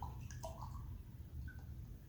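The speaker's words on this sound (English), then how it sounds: "we're going to pour this 3/4 cup of water into this mug" Three-quarters of a cup of water is poured into a mug, giving a brief, soft splashing trickle with a few small drips, fairly faint and close.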